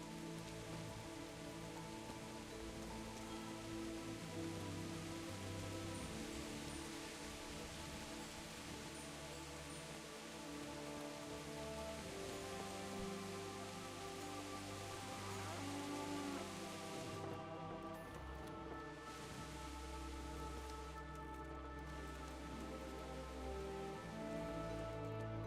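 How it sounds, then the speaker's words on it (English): Steady rainfall in the medieval game Kingdom Come: Deliverance, a soft, continuous patter on surfaces that stays even and gentle throughout with no talking. "Everybody's like sheltering from the rain."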